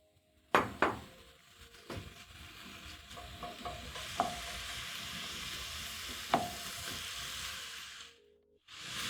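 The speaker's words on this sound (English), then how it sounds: "I just want to sear my meat to have that golden brown color on the outside." Beef sears in butter and oil in a pan, a steady sizzle with a few sharp clinks of a utensil against the pan, quiet and close, fading near the end.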